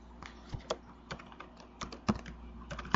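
Keys tapped on a computer keyboard in short, uneven bursts with brief pauses, quiet and close, alone without talk.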